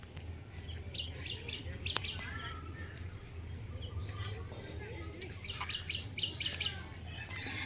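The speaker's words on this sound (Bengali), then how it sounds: "কি সুন্দর পাখিদের আওয়াজ" Birds calling and chirping on a rooftop after a return from the station, with scattered bright calls over a steady breeze and insect-like hiss, fairly distant and continuous.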